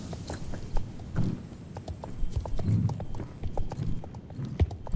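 Horse hooves clip-clopping in Star Stable Online, a steady run of soft, close hoof beats over a low rumble of game ambience, with no talking.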